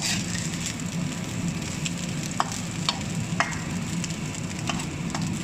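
Fried rice sizzles and crackles steadily in a hot pan while a utensil stirs it, with a few sharp scrapes and clicks against the metal over the constant frying hiss.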